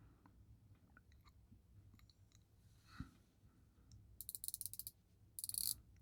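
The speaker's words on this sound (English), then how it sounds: "Yeah, nice bezel action, plenty easy to turn." A prototype stainless steel Radcliffe Tsunami dive watch has its rotating bezel turned, giving two quick runs of crisp, faint ratcheting clicks near the end over quiet handling noise.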